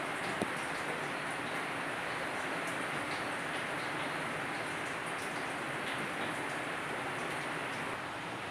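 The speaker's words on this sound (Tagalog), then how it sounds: "Walang tigil na ulan." Heavy, continuous rain pours steadily as a dense, even hiss with no breaks, heard on its own without voices.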